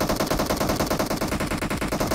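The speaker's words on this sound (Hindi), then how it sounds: "भैया जी खिड़की में गोली चला रहा है भाई" Rapid automatic gunfire from the PUBG Mobile battle royale game, a dense continuous burst of machine-gun shots at steady loud level, close and unbroken for about two seconds.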